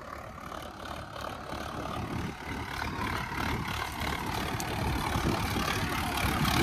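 A tractor with an implement attached idles nearby, a steady low diesel rumble that grows slightly louder over several seconds.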